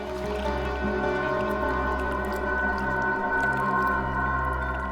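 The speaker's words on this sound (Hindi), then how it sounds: "पानी की आवाज आ रही है सर" Water heard faintly over a phone line during a call, a muffled continuous low hum and wash with steady tonal drones, constant and unbroken, with no voices.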